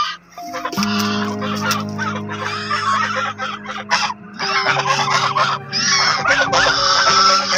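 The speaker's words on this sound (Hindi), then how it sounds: "हमारी जो है वो बड़ी डक्स आ चुकी है" Large white ducks on a farm give loud, overlapping honking quacks in long bursts close by, mixed with other fowl calls and clucking.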